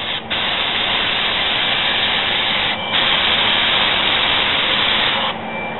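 A spray gun lays paint over a primed repair area on a 1947 Ford, giving a loud, close, continuous hiss with brief dips between passes and no talk.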